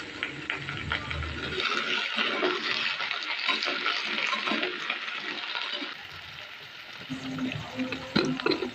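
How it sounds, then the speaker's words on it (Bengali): Potato pieces frying in oil in a kadai for jackfruit aloo dum, a steady sizzling hiss that runs continuously, briefly easing and then picking up again, with faint handling noises mixed in. "কড়াতে দিয়ে দিচ্ছি, কিছুক্ষণ ধরে ভেজে নেব আলুগুলো।"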